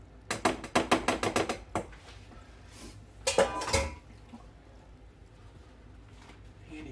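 A fork clinks rapidly against a bowl while combining wet and dry ingredients for low-carb keto biscuit dough, a quick run of about ten close scraping taps, then a second short burst of scraping after a pause.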